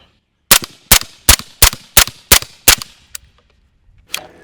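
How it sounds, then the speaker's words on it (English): Seven sharp suppressed gunshots in a steady rhythm from an MCX Rattler firing 220-grain subsonic 300 Blackout through a Nomad 30 suppressor, loud and close, followed by a faint click and a brief rustle. "220 grain subsonic 300 blackout out of an MCX Rattler with a Nomad 30 on the end."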